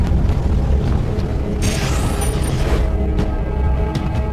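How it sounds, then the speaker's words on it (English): A deep, sustained rumble from the Toba supervolcano eruption fills the air, with a loud, constant low roar and a brief rushing, crackling swell partway through. "The explosion begins deep underground."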